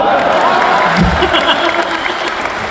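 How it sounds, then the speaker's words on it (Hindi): An audience at a Hindi stage comedy or satire performance breaks into steady applause mixed with some cheering, loud and close throughout the short stretch. "इस बार तो आपकी भरपूर तालियां बजेंगी"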